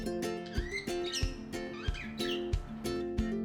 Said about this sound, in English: your budgie's probably spending most of its day with happy chirps